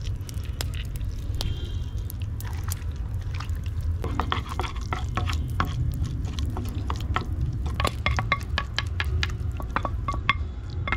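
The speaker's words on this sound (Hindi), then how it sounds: "अब मैं इनको मैश कर लूँगा, इनमें काली मिर्च डालूँगा, नमक और थोड़ा ऑलिव ऑयल आराम से" Boiled potatoes, tomatoes and eggs being mashed with black pepper, salt and olive oil, wet squishing and soft clicking taps repeating close up throughout, with no talk.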